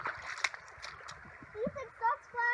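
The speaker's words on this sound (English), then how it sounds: "Ethan, stop splashing me." Light, close water splashing in uneven bursts at a hot spring, mixed with children's voices and chatter.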